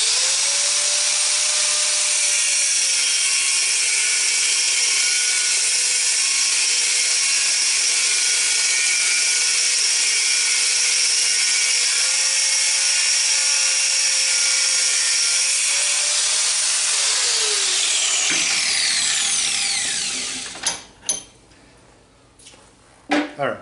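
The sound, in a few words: grinder cutting metal pliers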